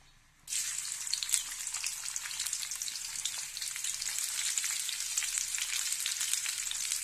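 Chopped onions hit hot oil while a chapila fish curry is being cooked. After a quiet moment, a sudden loud sizzle bursts in and keeps crackling steadily, without speech.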